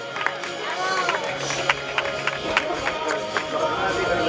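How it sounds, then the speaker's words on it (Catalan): Crowd applause and cheering for a women's podium finisher at the 5th Santa Fe–La Granada hill climb time trial, a steady outdoor clapping wash with scattered sharper claps and voices mixed in. "I també un aplaudiment per la Marta."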